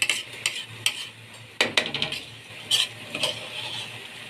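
Lentils and rice stirred in oil in a pot, a utensil scraping and clinking against the metal in short repeated strokes over a faint sizzle, close and alone.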